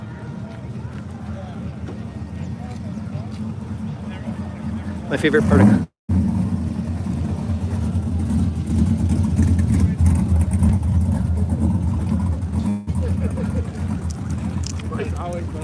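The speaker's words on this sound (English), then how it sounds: "Gotta listen to the square body go by." A square body truck rolls past at a classic car show, a continuous low engine rumble that swells briefly before cutting, under steady nearby talk.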